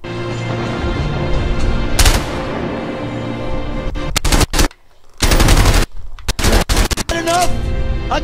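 Bursts of rapid gunfire crack out in the video game A Way Out, loud close volleys broken by short gaps, with other game sounds and a voice speaking between the shots.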